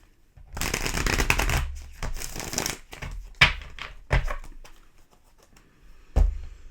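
Tarot cards are shuffled by hand in several quick bursts, crisp riffling and slapping runs separated by short pauses and a few sharp taps, close and clear with no talk.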